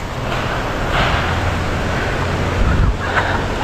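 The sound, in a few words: strong wind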